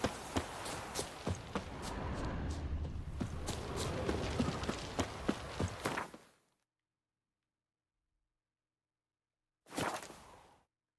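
Geralt's horse Roach clops along in The Witcher 3, with rhythmic hoofbeats and swishes filling the first six seconds, then silence, then a brief final burst of clatter near the end.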